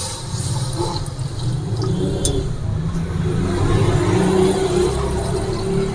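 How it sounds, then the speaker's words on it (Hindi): Water pours loudly and steadily into a pot of mutton for biryani, a continuous gushing splash that lasts throughout. "पानी डालेंगे हस्बे ज़रूरत।"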